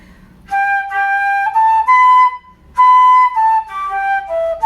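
A flute plays a traditional Scottish tune phrase at a young trad workshop, clear sustained notes stepping through a short melody in two breaths, solo with no talk.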